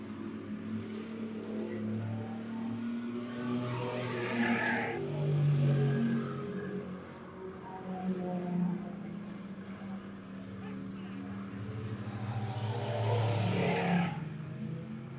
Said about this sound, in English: Everybody pretty scattered out now here in our bomber heat race number 1.